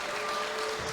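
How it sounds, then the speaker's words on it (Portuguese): A church congregation claps in a brief, dense, steady wash of applause, with faint musical tones underneath. "dê um aplauso a Ele, bem forte"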